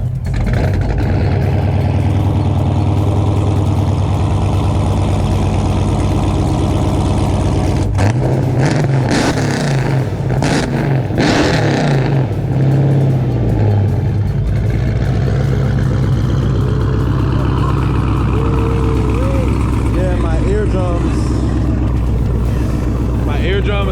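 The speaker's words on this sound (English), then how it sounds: "give us a start and a couple revs" A Dodge Charger Hemi engine fires up and idles with a deep, heavy rumble, then revs hard a couple of times, very loud and close.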